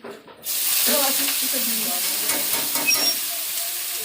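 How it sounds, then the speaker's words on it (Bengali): Hot oil sizzles steadily in a wok as cut dried chillies fry, a bright continuous crackle starting abruptly after a short pause, with faint clinks in the background. "এই যে কড়াইতে কটা শুকনো লঙ্কা কেটে দিয়েছি"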